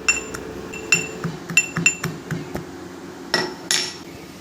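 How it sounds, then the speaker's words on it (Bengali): Whole cashews crushed into simmering milk for a sweet Eid morning dish, giving a run of sharp clinks and taps of utensil against pot, irregular and close, with a low cooking hum beneath. "এবার এই দুধের মধ্যে এই কাজুগুলোকে ক্রাশ করে দিয়ে দেবো"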